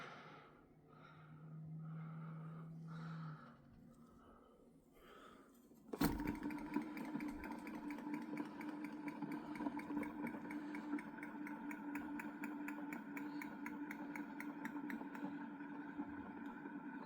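An axial flux counter-rotator coil motor on a 9V supply, wound with about 90 turns of 28 and 16 gauge wire, starts with a sharp click and then runs with a steady close whirring hum and a fine rapid ticking.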